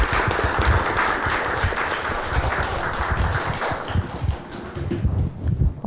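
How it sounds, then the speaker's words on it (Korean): Audience clapping for a presenter at the end of a team presentation on a VR rhythm game project, a dense, steady patter of many hands that thins slightly toward the end. "박수 한번 부탁드리겠습니다"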